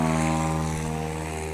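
A STOL airplane at a swamp STOL competition in Jennings, Louisiana, powers up for takeoff, its propeller engine droning loud and steady with strong harmonic hum throughout, no voices over it.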